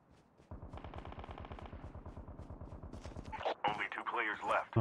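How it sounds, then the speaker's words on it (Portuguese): Rapid automatic gunfire in the Call of Duty: Mobile battle royale, a steady rattling burst lasting about three seconds, followed by louder sharp game effects and a voice talking over the end. "Só atirando o outro lá."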